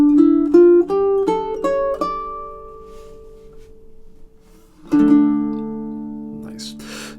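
Baritone ukulele picks out a quick run of eighth notes heading into a piece's ending, bright plucked notes stepping one after another, a pause, then a final ringing chord and a soft brush at the close.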